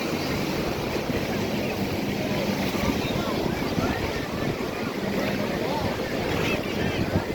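Strong, heavy sea waves churning around a boat on open water, a steady loud rush of water and surf mixed with wind buffeting the microphone throughout, with no voices.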